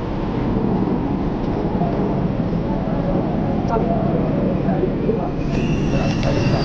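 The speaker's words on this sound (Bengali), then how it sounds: "চলে আসলো আমাদের কাঙ্ক্ষিত ট্রেন" A Kolkata Metro train pulls into an underground platform, giving a loud, continuous low rumble and rolling roar throughout, with faint squealing tones near the end as it arrives.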